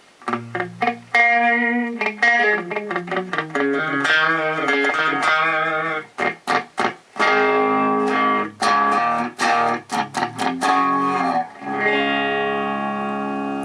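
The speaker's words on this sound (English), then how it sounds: "if we turn the delay time all the way up on chorus, and we have 0 feedback, we get sort of a little bit of a slapback echo" A Moogerfooger MF-108M Cluster Flux pedal on chorus with delay time at maximum and zero feedback gives a short slapback echo to a played synth-like melody, with notes starting and stopping throughout and nobody speaking.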